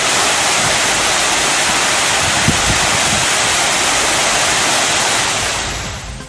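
Heavy water flow at Tamil Nadu waterfalls such as Masila, Namma and Puliyancholai makes a loud, continuous roaring rush up close, easing slightly only at the very end.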